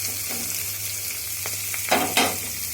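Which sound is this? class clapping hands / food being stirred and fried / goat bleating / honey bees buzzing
food being stirred and fried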